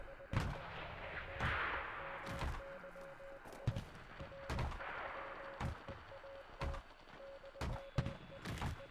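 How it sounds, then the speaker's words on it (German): Artillery fire in a mortar squad video game: a series of sharp, irregular booming shots, close and distinct, separated by short pauses over a faint tonal background. "Jetzt kann ich nochmal eben Artillerie raushauen"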